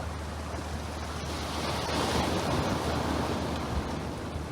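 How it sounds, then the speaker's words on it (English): Sea waves wash steadily at Denia marina in Spain on a calm day, a soft, continuous broadband surf hiss with a gentle swell in the middle, some wind noise on the microphone and no talking. "And we've got the sea right next to us."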